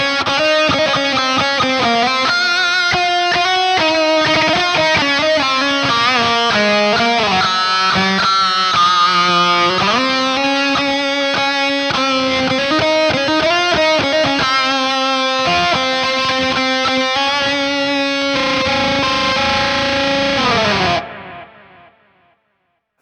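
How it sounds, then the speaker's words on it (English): Electric guitar played through a solid state rig with delay and reverb switched on, loud sustained distorted chords and notes shifting over the passage, then cutting off with a short reverb tail fading near the end. "Let's turn our delay and reverb on."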